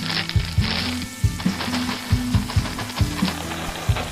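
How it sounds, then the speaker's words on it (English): Flour being stirred into softened celery, carrot and onion mirepoix in a pot, with a steady low sizzle and repeated scraping strokes of the spoon, close and moderately loud, no voices. "And I stir that until the flour begins to dissolve into the mirepoix"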